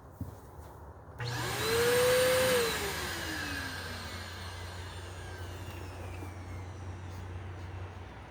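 A roughly twelve-year-old Eureka Boss Capture bagless vacuum cleaner, found at the curb, starts with a rising motor whine and settles into a steady, loud, airy roar.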